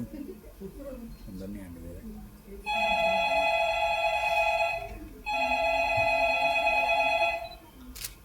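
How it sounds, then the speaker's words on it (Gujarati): A telephone rings in two long electronic bursts separated by a short pause while someone places a call to a company, with a voice heard faintly before the first ring. "હવે તો મારે કંપનીમાં ફોન કરવો પડશે."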